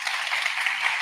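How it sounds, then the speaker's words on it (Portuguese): A seminar audience on extended reality technology breaks into applause, a dense and continuous patter of many hands clapping briefly. "uma salva de palmas, pessoal."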